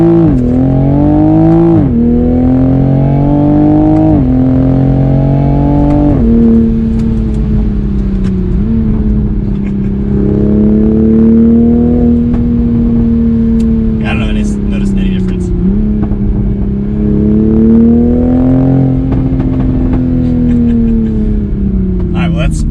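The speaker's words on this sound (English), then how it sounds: "Exhaust certainly sounds pretty good." Exhaust of a Toyota A90 Supra with a cheap engine mod, heard while accelerating: a loud, steady engine drone that rises in pitch through several gear steps, with talk over it.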